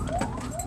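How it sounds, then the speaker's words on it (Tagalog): An ambulance siren wailing on the road as a manual car is driven, a rising and falling tone heard clearly and fairly loud for a brief moment. "ambulansya, tumabi tayo"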